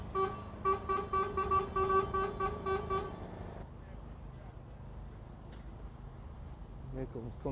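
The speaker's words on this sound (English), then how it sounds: "somebody else who's got the same air horn" A loud, musical truck air horn blasts a rapid series of rhythmic toots for about three seconds at Truckfest in Newark, then fades into distant crowd and traffic noise.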